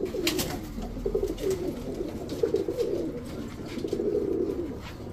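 Pigeons of Pakistani Teddy, Lalpatti, racer and Giribaz breeds, including army-type pairs, coo in low soft rolling phrases, several bouts in a row, steady and moderately close with faint background noise and no talk.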